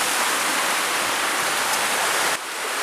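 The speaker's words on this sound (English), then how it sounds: "what we've got here is a small stream coming down from some of the peaks up in Snowdonia" A small mountain stream and waterfall in the upper course of a river off the Nant Ffrancon Valley in Snowdonia, North Wales, rushing in a loud, steady broadband roar with no talk over it.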